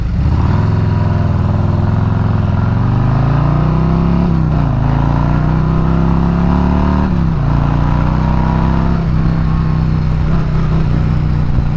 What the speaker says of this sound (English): riding this damn road glide like it's a sport bike